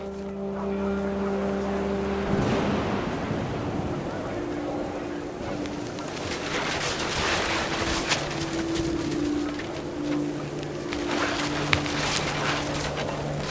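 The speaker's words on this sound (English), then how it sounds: "The rain came down in buckets then" Heavy rain in the video game What Remains of Edith Finch, a steady broadband downpour pouring over a makeshift tent, running continuously beneath a low hum and scattered game sounds.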